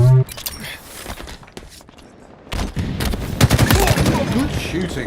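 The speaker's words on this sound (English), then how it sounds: "Good shooting, Spartan." Rapid automatic gunfire bursts in a Halo Team Slayer multiplayer match, a brief blast at the start, quieter action in the middle, then dense loud firing in the final two seconds.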